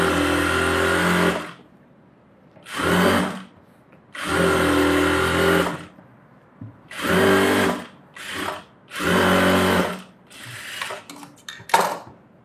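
A sewing machine stitches a fancy-model blouse in five loud bursts of whirring, each one to two seconds long, separated by short pauses, followed by a few brief clicks and taps at the end.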